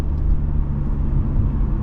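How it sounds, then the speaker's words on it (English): A 2024 Hyundai Elantra SEL Convenience compact sedan on the move: a steady low road rumble and engine drone fill the cabin, loud and continuous, with no talking over it. "you're gonna hear some road noise and some engine noise and some wind noise"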